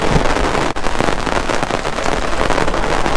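Heavy rain falling at a hammock campsite, a dense, loud, continuous patter and roar close by, steady throughout with one brief dip, no voices.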